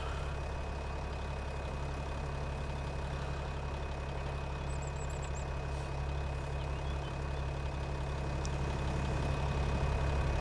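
Old 230 hp Deutz 8.31 tractor engine pulling a trailed plough in Farming Simulator 25, a steady, low, heavy diesel drone running evenly throughout with no speech.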